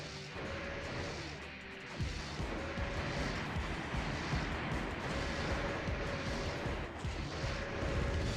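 Heavy bazooka shots in the mech combat game Armored Core: Master of Arena, a dense run of loud booming impacts and crashes over a steady roaring din, with a sharper blast near the two-second mark.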